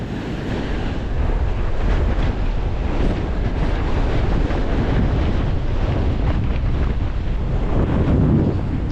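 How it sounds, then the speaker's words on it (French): Powerful ocean waves surge and crash continuously onto a rocky fishing shore, with heavy wind buffeting the microphone and forming a dense, loud roar without any speech. "Voilà, la puissance des vagues."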